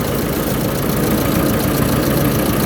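Warm Ursus tractor engine idles steadily, a close, even mechanical rumble with a low chugging pulse, running alone with no speech. The engine has very low oil pressure at idle when warm.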